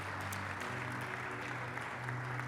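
A church congregation applauds newcomers with a steady, dense wash of clapping at moderate distance, with a low hum underneath.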